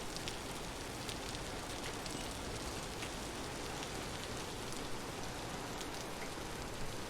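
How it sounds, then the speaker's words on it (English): Steady rain falls in a survival game's wilderness, a dense, even hiss of drops pattering on surfaces that holds at constant loudness throughout with no pauses. "And again, rain is not helping."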